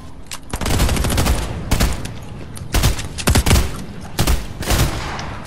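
Rapid bursts of gunfire in a Fortnite squad match, several loud volleys and automatic fire crackling close by in quick succession over a steady noisy background.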